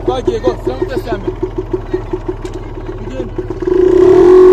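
A motorcycle engine putters in a regular pulsing rhythm, then opens up into a sustained, loud rev as the rider shifts into third gear. Talk is heard over the engine.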